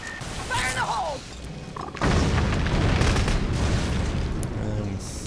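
A grenade explosion in Clive Barker's Jericho bursts loudly about two seconds in and rolls into a sustained rumbling boom, after a stretch of quieter game sound.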